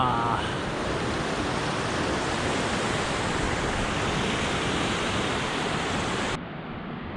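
A waterfall in the Pamir mountains roars as a dense, steady wash of rushing water, loud and continuous, dropping abruptly in level near the end.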